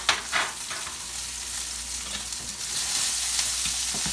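Gnocchi pan frying with Brussels sprouts, squash and garlic, a continuous crisp sizzle with a few stirring scrapes near the start, steady and close with no voices.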